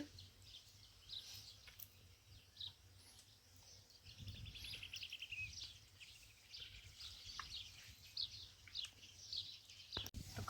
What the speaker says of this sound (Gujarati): ચકલા બોલે છે